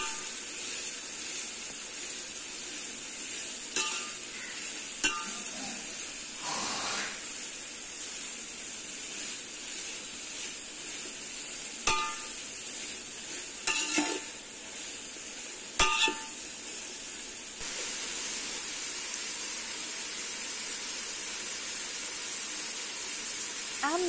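Onions frying until golden for Hyderabadi chicken biryani produce a long, even hiss of hot oil, dotted with sharp clicks and brief clatters of a utensil against the pan.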